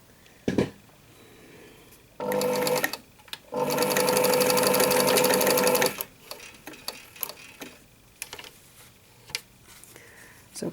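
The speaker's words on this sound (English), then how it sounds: "So I'm gonna sew along all the edges." A sewing machine stitches along the edges of a piece of fabric in two steady whirring bursts, a short one and then a longer run of about two and a half seconds, with faint handling clicks between and after.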